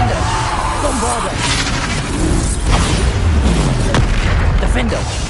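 Booming spell blasts from the Hogwarts Legacy video game's Bombarda explosion spell sound in quick succession amid busy combat effects, loud and close, with a deep thud near the middle and a sharp crack toward the end.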